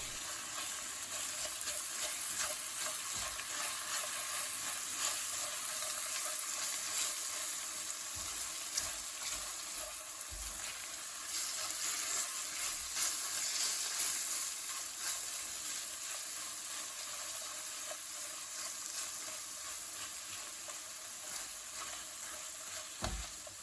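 Chilli powder, mixed spice powder, tomato puree and turmeric fry together in a pan, producing a long, steady hiss and sizzle with occasional soft stirring knocks, no speech.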